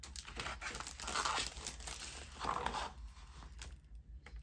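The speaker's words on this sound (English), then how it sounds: "I'm going to cut this piece" Scissors cutting a sheet of peacock shimmer paper, heard as close, quiet crinkling and rustling snips with two brief louder crunches, ending in a faint lull.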